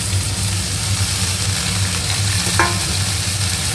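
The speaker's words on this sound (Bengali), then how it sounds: "দিয়ে এবার শাক সহ আর একটু ভাজা ভাজা করে দেবো" Water spinach and pumpkin fry together in a pan with a continuous close sizzle and stirring, and one brief scrape near the end.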